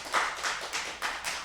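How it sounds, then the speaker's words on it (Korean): A church congregation claps together during a Sunday morning service, a short burst of dense, even handclaps with a steady rhythm, fairly close and without talk. "우리 박수로 격려하겠습니다."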